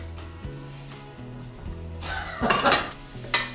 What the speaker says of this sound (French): rajouter le sirop d'érable et le balsamique, puis je vais faire caraméliser ça environ 15 minutes